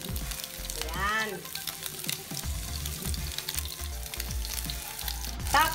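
Anchovy omelette sizzles steadily in a frying pan, a continuous close frying hiss with a few faint clinks and soft voices in the background.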